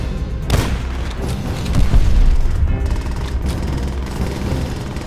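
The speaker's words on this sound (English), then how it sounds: "Go grenade." Grenade blast in Call of Duty: World War II, a dense, loud rumbling boom with scattered gunfire and battle noise continuing around it, no voices.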